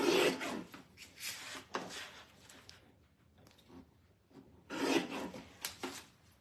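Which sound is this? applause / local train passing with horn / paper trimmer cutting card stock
paper trimmer cutting card stock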